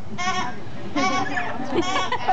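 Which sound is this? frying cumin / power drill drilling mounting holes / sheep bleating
sheep bleating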